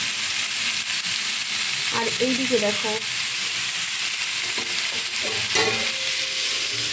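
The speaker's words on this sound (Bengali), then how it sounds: "আলুটা ভাজা ভাজা করি" Potatoes fry in a pan with a steady, close sizzle and crackle that runs the whole time, while a voice speaks briefly over it.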